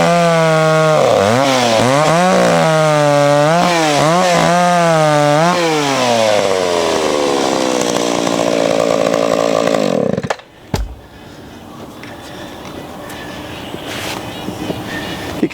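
A vintage McCulloch chainsaw, a 610 or 650 model, runs loud and close, revving repeatedly in rising and falling surges before it winds down and cuts out, leaving a low background rumble.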